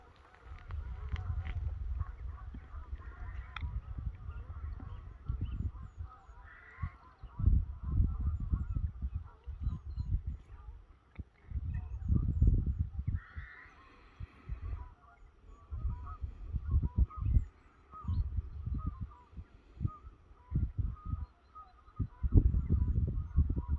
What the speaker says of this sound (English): lots of shouting and bawling going on by the geese downstream of me